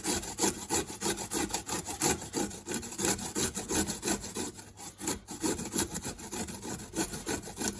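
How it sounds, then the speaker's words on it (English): Ginger is grated by hand on a grater, a steady rhythmic rasping scrape repeating in quick close strokes without pause; no one talks. "It's quite tough grating it."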